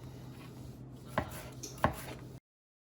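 A knife chops through vegetables such as onions and peppers on a board, two distinct close thuds against a quiet background with a low hum, then abrupt silence.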